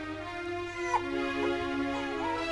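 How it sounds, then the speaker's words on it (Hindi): A dog gives short whimpers and yips up close, heard against a steady tonal background hum, with a brief sharp yap near the start. "कुत्ता डंडान पे कूद रहा रे"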